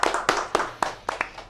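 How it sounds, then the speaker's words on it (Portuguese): An audience at a youth choir music workshop claps, a handful of sharp, distinct hand claps in a loose, uneven rhythm, fairly quiet and close, with no talk over it. "Uma salva de palmas"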